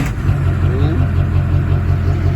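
A long-bed pickup truck fitted with new Dynomax Race Bullet exhaust rumbles steadily up close with a deep, throaty idle and slight revving, loud and continuous.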